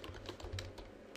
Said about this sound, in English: And then I'm just going to type some text here.